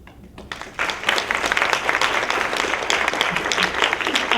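Dense audience applause at a poetry reading swells after a brief quiet moment and continues steadily, a close, sustained wash of many hands clapping.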